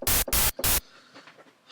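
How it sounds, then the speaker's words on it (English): White noise from a synthesizer oscillator sounds in three loud, hissing bursts, each separated by a brief gap, then cuts off to near silence. "This is just white noise right here, like that."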